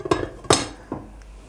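A few sharp metallic clanks of a lid settling onto a frying pan of potatoes and eggs, two clear knocks and a fainter rattle, close and brief.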